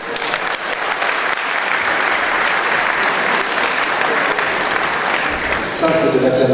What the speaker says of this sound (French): Ça, c'est de l'acclamation utile.